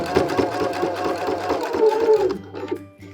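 A sewing machine with an A foot stitches a bias-bound neckline in contrasting thread, running in a steady close whir that slows and stops near the end.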